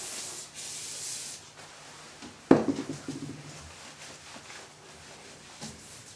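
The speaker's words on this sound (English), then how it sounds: "I like WD-40 for cleaning things." A WD-40 spray hisses briefly, followed by rag rubbing while cleaning metal parts: a sharp burst midway, then soft intermittent wiping and scuffing nearby at low volume.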